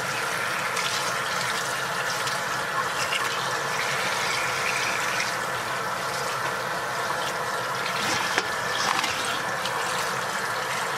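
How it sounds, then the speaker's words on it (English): Running tap water pours steadily over vegetables being washed in a kitchen sink, a continuous close splashing rush with no talking. "And now I'm gonna wash the veggies."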